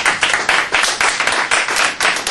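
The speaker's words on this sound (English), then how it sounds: "Let me hear by round of applause." Comedy show audience applauding, loud close handclaps in rapid bursts that swell and ease in waves.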